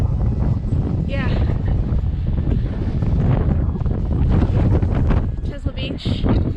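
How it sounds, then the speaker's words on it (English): Strong gusting wind buffets the microphone on the open shingle of Chesil Beach, a loud continuous roar with rising and falling surges and faint surf beneath. "Yeah, it's extremely windy, but it's about 60 degrees."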